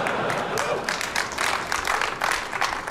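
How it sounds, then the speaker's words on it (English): Audience applause at a tech event broadcast, heard as a steady wash of many hands clapping at moderate distance for about three seconds, without voices standing out. "Can't believe he's getting applaud for that."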